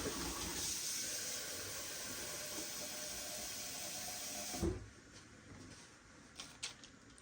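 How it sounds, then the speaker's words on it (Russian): Water poured from a container onto a baking tray holding a meat roll on parchment paper, a steady hissing splash that stops abruptly, followed by a few soft clinks. "И я немножко сюда наливаю водички."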